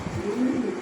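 A male Sheikhshali pigeon gives a short, soft coo, a single brief low warble heard close by.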